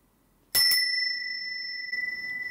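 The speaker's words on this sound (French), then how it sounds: "je vais scander comme la dernière fois les cinq phases de la méditation avec ces petites cloches" A small bell is struck once to mark a phase of a musical meditation, a bright clear ring with a sharp attack that sustains and fades slowly, with a second faint tap in the long tail.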